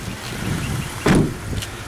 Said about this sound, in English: I will just open up the bonnet now for you.